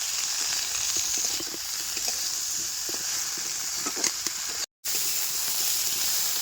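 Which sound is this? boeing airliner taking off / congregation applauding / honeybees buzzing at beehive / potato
potato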